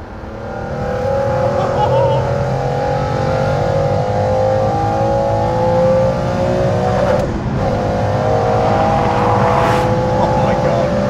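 A McLaren hypercar engine revs and accelerates loudly and steadily, pitch climbing through the gears with a brief dip at a shift, heard close from inside the car.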